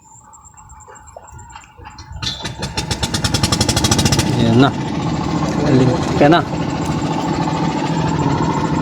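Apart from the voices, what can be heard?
boat engine starting and idling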